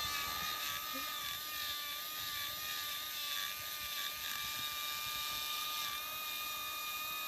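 A carbide burr in a high-speed rotary tool grinds an aluminum intake manifold, a steady high-pitched whine with wavering pitch as the cutter loads and frees, close and continuous.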